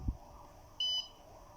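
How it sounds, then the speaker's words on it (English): One short, high electronic beep from a smoke alarm buzzer, sounding once after a soft thump, faint against quiet background. "as soon as the smoke is detected, the LED and the buzzer were activated simultaneously"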